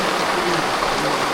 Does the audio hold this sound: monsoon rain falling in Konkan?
yes